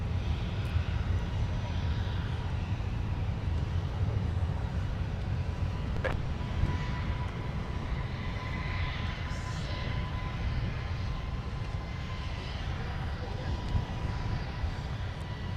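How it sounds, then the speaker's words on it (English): A Delta Boeing 757-200 airliner taxis at Minneapolis–Saint Paul airport, a steady distant jet engine whine and rumble that holds evenly throughout, with faint speech over it. "This is Delta 2249, headed out to Las Vegas today with the 757-200"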